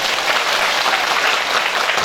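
An audience at an Islamic religious lecture bursts into a dense, steady round of clapping that fills the whole moment, loud and sustained without a break, with no voice heard over it.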